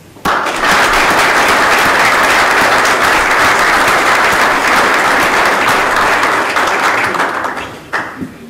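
Loud, sustained audience applause at a municipal event in Viana do Castelo, with dense clapping from a large crowd that holds steady for several seconds, then breaks off abruptly.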